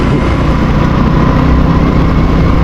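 A motorcycle engine runs loud and steady on a long ride, a constant close drone filling the whole moment with no talking.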